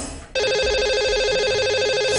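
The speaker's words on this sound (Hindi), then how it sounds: "तो लगाते हैं इन्हें अब कॉल।" A telephone rings steadily and loudly on a Hindi radio call-in show as a call is placed to a lucky caller, the electronic ring tone starting after a brief moment of low background and continuing alone.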